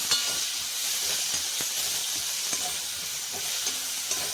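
Tomatoes sautéing in a pan on the stove for a Chettinad cabbage and potato masala, giving a steady close sizzle and hiss with a few soft stirring clicks.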